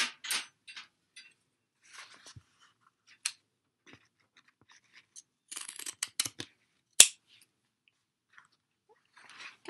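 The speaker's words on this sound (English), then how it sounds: "so I'm gonna clip these with pinking shears" Pinking shears clipping a fabric seam allowance on a tote bag, sparse crisp snips and clicks scattered irregularly, close and mostly isolated against near silence.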